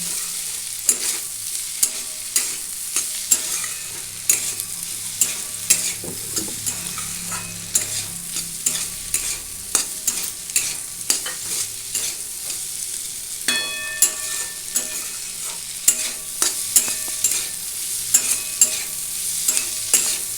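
Bitter gourd with ripe red chillies sizzles loudly in a pan, broken by frequent sharp scraping and clacking stirs, close and clear with no talk.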